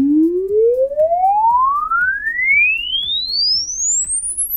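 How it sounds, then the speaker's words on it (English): A pure electronic tone sweeps steadily upward from low to very high pitch, loud and continuous, with faint rhythmic ticking underneath. "The sound we use can either be a scientifically measured tone sweep"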